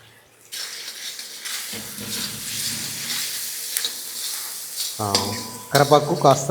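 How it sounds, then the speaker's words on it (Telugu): Curry leaves crackle and sizzle in hot oil for catering-style tamarind pulihora, a rising frying hiss with sharp pops, someone talking intermittently over it. "ఆ తర్వాత మనం కరివేపాకు వేసుకోవాల్సి ఉంటుంది."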